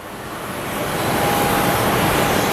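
Alaska Airlines Embraer jet in Heritage Retro livery on final approach at Phoenix Sky Harbor, a steady jet rumble and whine swelling louder as it nears, with a thin high tone threaded through.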